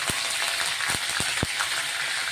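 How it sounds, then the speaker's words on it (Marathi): Curry leaves and cumin crackle in hot tempering oil, a dense steady sizzle with a few sharp pops close by, no voices. "कढीपत्ता टाकून घेतोय"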